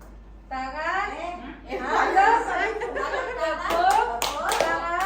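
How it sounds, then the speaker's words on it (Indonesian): A class group does a hand-clapping exercise, a few sharp claps breaking through near the end while children and an adult talk and chuckle over most of it. "Tepuk tangan kanan di telinga."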